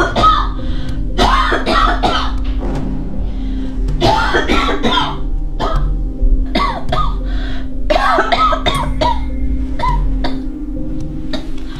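A woman coughs repeatedly indoors, loud and close, in bursts of harsh hacking and throat clearing separated by short pauses.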